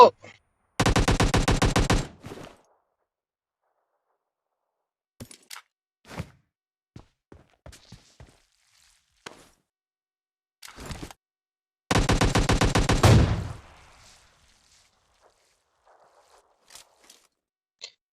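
Automatic gunfire in the PUBG Lite video game, two loud rapid bursts of about a second each, separated by scattered faint clicks and quieter single shots.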